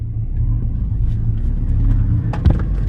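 Car engine rumbling from inside during a ride: a steady low drone with a brief knock near the end, close and fairly loud.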